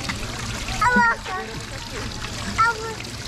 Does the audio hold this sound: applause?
no